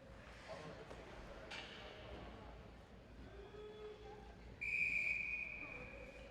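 A referee's whistle at an ACHA college ice hockey game between RPI and Vermont gives one sharp, sustained blast near the end, rising above arena crowd noise and a commentator talking.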